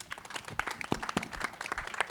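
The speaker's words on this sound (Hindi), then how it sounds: "एक बार जोरदार तालियां" An audience claps at a film Q&A event, a thin, scattered patter of hands that sounds fairly distant and modest in volume.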